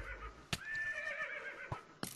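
A horse whinnies in Minecraft, a quiet wavering neigh lasting about a second, with a few sharp game clicks around it.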